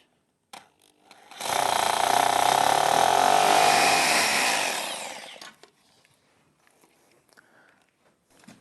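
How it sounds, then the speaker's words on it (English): A power drill with a 6mm masonry bit whines loudly for about four seconds as it bores into masonry for a window's bottom track, rising abruptly and tapering off, with quiet handling noises before and after. "We're now ready to drill the bottom track using a 6mm masonry drill bit"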